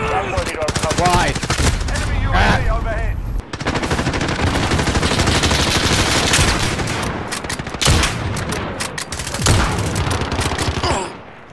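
Rapid automatic gunfire from a gun in the video game Call of Duty, loud and close, in dense, sustained bursts with a brief pause early on and ringing, clattering tails.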